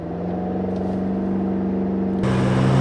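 A new all-wheel-drive BMW M5 launching in four-wheel-drive sport mode, a loud, steady engine drone rising in pitch as it accelerates, with a gear change near the end, close and unbroken.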